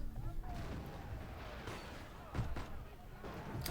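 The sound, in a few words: gunfire in a video game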